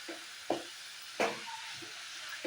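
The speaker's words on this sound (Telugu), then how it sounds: "ఆనియన్స్ వేగిన తర్వాత ఇదిగోండి బీట్రూట్ కట్ చేసిన బీట్రూట్ మనం వేసుకొని" Sliced beetroot dropped into a pan of browned frying onions, giving a few soft thuds and scraping stirs over a faint, steady sizzle.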